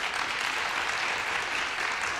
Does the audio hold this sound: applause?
yes